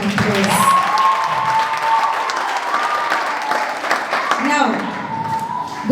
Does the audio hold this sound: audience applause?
yes